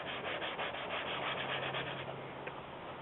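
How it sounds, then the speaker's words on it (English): Steady rubbing scrub of leather on a BMW 5 Series car seat being agitated with a mix of softening chemicals, a continuous close, even friction texture lasting throughout with no talk. "I'm just going to agitate the leather a little bit now"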